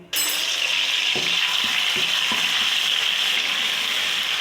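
Loud sizzling erupts as garlic and ginger drop into hot oil, settling into a steady hiss with a few soft clinks of a utensil against the pan.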